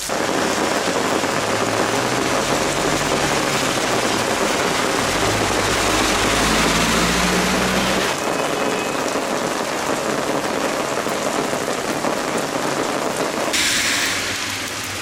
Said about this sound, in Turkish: Oo Bayburt'ta ne kadar yağmur ya.